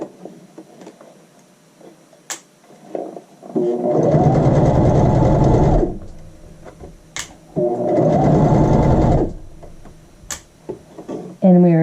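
An electric sewing machine stitches grosgrain ribbon onto the inside of a skirt waistband in two steady runs of about two seconds each, close and loud, with quiet handling clicks between them.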